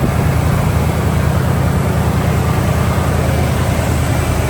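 A 1991 Ford F150 pickup with a 351 V8 and redone exhaust exiting ahead of the tires runs steadily at close range, a loud, even low rumble that holds without revving or voices.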